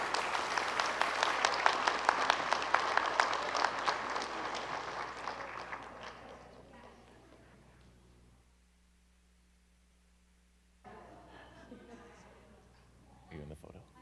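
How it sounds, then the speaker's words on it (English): A crowd at a school board meeting gives a loud round of applause for the Hagerty High School girls volleyball team, dense clapping that gradually fades out, followed by a quieter room with scattered sounds and faint voices. "Let's give it one more time, a round of applause to Hagerty High School girls volleyball team"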